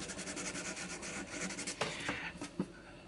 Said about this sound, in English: I'll sometimes wrap the sandpaper around one of these nail boards, which just provides a little bit of cushion.